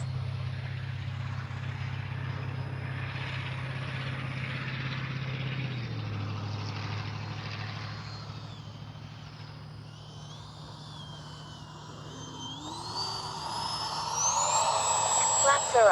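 Freewing 80mm F-22 Raptor RC jet with electric ducted fans passing overhead, a steady whooshing whine that fades slightly mid-pass, then rises with a sharper high-pitched scream toward the end as it comes closer.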